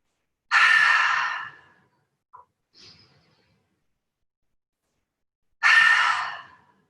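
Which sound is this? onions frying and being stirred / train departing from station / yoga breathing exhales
yoga breathing exhales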